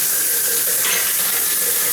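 Water pouring from a shower head, a loud, steady, broadband hiss of spray that continues unbroken and close by, with no voice.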